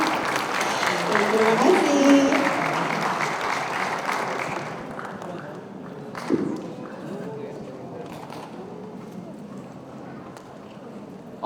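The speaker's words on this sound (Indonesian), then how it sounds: "Tepuk tangan dulu ya." Theatre audience in Banda Aceh applauding after a performance, a loud crowd clapping that fades over several seconds into murmuring room noise, with a voice speaking briefly near the end.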